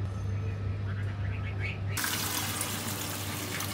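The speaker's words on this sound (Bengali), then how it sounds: "ধুয়ে আধা ঘন্টা ভিজায় রাখি" Water gushes suddenly from a tap while rice is washed, a loud, steady close rush that starts midway after a quieter stretch with faint voices.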